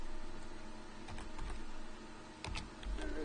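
A few quick clusters of keystrokes on a computer keyboard as a console command is typed, soft irregular clicks set against a low steady room hum, with no voices.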